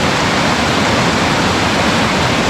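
Bradley Fork Creek in the Great Smoky Mountains, fast mountain water rushing loudly and steadily, a dense, unbroken roar close by with no voices.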